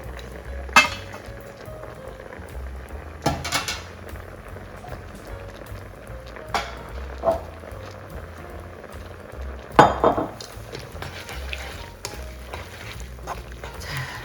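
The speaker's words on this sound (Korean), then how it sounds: "그래서 면을 한번 넣어서 같이 끓여보도록 하겠습니다." Boiled pasta noodles coated in olive oil go into a pan of cream sauce at a full boil, heard as sharp metallic clinks and scrapes of utensils against the pan over a quiet low bubbling, close up, with no talk.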